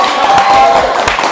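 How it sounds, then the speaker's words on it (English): A studio audience gives a warm burst of applause and cheering to welcome guests onto a stage, dense steady clapping with crowd noise throughout. "Y'all hear that applause?"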